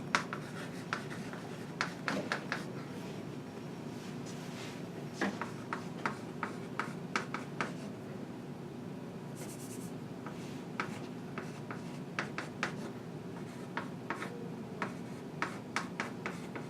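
Pen or marker writing out a system of equations for a least squares problem, a steady run of short scratchy strokes and taps, close and fairly faint, with no talking.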